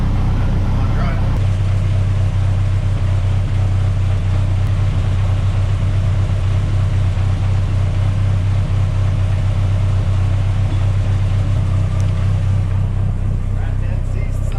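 A big turbo 3.0L Mercruiser boat engine swapped into a Chevrolet S10 truck, idling with a loud, steady low drone that starts abruptly and holds evenly, with a brief rise in revs near the end.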